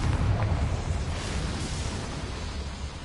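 A Confringo fire spell blasts a boiler in Hogwarts Legacy, giving a loud, roaring, rumbling burst that gradually fades across the whole span.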